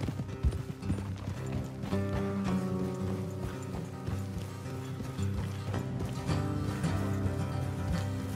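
Steady clip-clop of horse hooves trotting along a road in the video game Red Dead Redemption, partly buried under continuous music that plays throughout.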